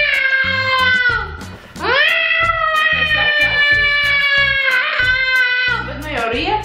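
A cat meows loudly and insistently at close range in a long drawn-out wail, with several sustained calls over about seven seconds, the sound rising and falling almost like a siren.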